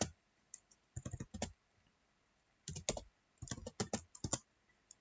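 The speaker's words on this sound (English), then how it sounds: "and I type ls here" Bursts of key clicks from typing a short command on a computer keyboard, in three quick clusters with pauses between, close and fairly quiet.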